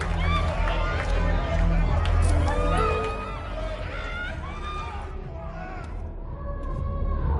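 Concert crowd churning in a mosh pit before a stage in the video game Life is Strange, a loud dense din of shouting and movement with voices talking over it, thinning slightly toward the end.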